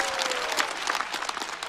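Brief burst of audience clapping at a stand-up comedy show in a studio, dense and continuous with scattered sharper claps.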